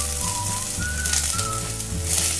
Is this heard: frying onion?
yes